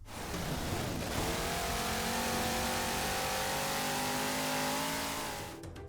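The Warthog vehicle engine from the video game Halo Infinite roars continuously and loudly, revving with rising tones throughout before fading slightly at the end.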